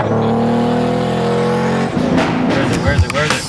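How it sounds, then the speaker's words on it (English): A turbocharged Acura NSX with about 460 wheel horsepower idles loudly up close with a steady droning hum, then breaks into rough, uneven sputtering pops about halfway through, with a voice talking over it. "the engine sputtering"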